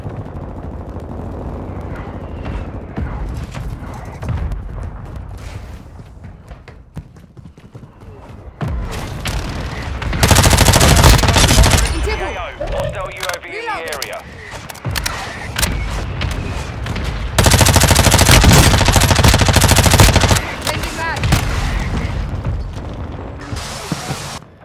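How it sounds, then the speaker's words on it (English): Call of Duty MW2 battle royale combat: a hostile mortar strike and gunfire, with loud sustained bursts of explosions and rapid shots in two heavy waves over rumbling battlefield noise and occasional voice. "Hostile mortar strike near your position."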